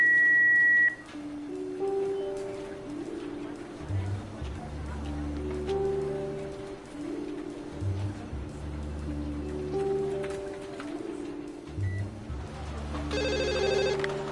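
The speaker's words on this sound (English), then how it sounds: "Please leave a message at the beep" An answering machine in a video game gives short electronic beeps and ringing tones over a low droning background, with a cluster of tones near the end.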